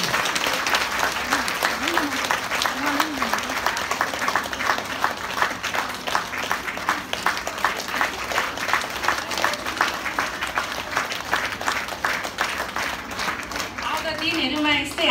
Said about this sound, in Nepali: खै हाम्रो ताली कता हुनुहुन्छ हौ